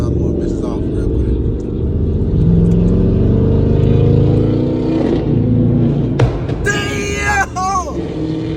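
A muscle car at a car meet rumbles and revs hard, its exhaust rising and falling before a few sharp pops and bangs burst out near the end, loud and close.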